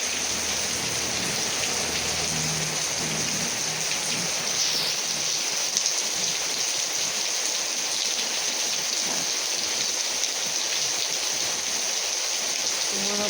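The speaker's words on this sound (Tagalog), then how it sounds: "Mga patak ang ulan." Raindrops patter steadily and densely nearby, a constant wet hiss that carries on unbroken for the whole stretch with no talking.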